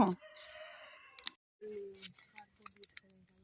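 Country chickens cluck and call in short bursts nearby, with a brief crow-like cry, over background noise.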